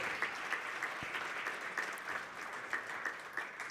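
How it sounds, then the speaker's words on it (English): Audience applause at a national green hydrogen conference in Namibia, a steady moderate wash of clapping hands that holds evenly from start to finish, heard from within the room with no voices over it. "Please give him a big round of applause."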